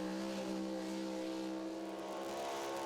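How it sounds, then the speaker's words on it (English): A big Ford pulling vehicle from Thayer, Missouri, roars at high RPM during an outlaw pulling competition on a concreted track: a loud, steady, harmonic engine drone held without a break. "Motor really up there at a high RPM"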